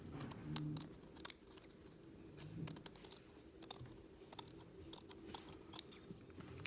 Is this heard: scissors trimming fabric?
yes